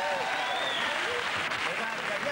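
A television studio audience applauds steadily throughout while voices talk over the clapping.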